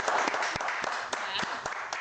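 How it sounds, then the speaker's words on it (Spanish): Studio audience clapping for a deputy at a TV Caquetá interview show, a steady moderate round of applause with scattered sharper claps standing out. "Un aplauso para ella."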